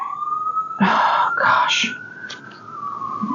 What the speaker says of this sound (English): apologies about the sirens. I live next to a highway.